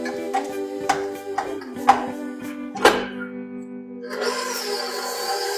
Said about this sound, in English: You hear that sound of my motor, of my mixer? It sounds really bad, but because it's a commercial mixer